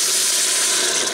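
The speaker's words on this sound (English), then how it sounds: "now I'm going to add back the beef broth" Beef broth pours into an Instant Pot in one continuous, loud, rushing splash for the whole moment, with no voices over it.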